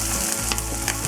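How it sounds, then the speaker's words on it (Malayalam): Shallots, dried red chillies and curry leaves sautéing in hot coconut oil for chena mezhukkupuratti, a loud, dense, continuous sizzle close up, with faint stirring scrapes and no talk. "കറിവേപ്പില നമുക്കൊന്ന് വഴറ്റിയെടുക്കാം."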